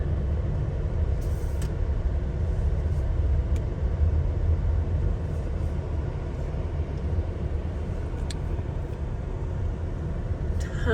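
Steady low rumble of a car driving slowly across a nearly empty parking lot at Lake Powell toward the boat ramp, a continuous even engine and road drone throughout with no talk.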